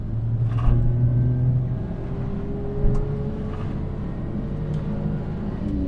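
A car engine revs up to 6,500 rpm, a steady rising drone with a faint whine, fairly close and alone, with a couple of brief knocks.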